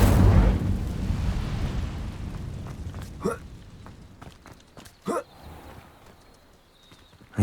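A fire spell cast in Hogwarts Legacy gives a few short, sharp whooshing bursts spread across the stretch, each rising briefly over a low, steady game ambience.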